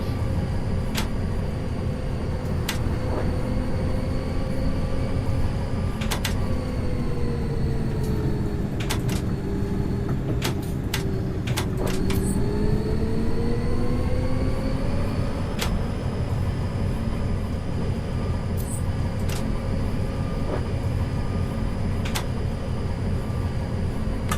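A tram in the video game Bus Bound runs with a constant low mechanical drone and electric whine that slowly dips and rises, with occasional sharp clicks over the steady hum.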